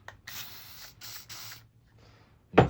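A cleaning spray bottle is squirted onto a greasy hand over a trash can during bicycle disc brake work, giving three short close hissing bursts, then a softer one and a sharp knock at the end.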